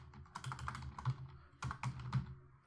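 Rapid keystrokes on a computer keyboard while writing a Unity shop-interface script, heard as close, crisp clicks in uneven bursts with brief pauses and no talking.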